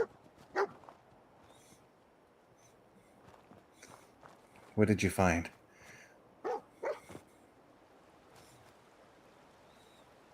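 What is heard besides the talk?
dog barking in Fallout 4 video game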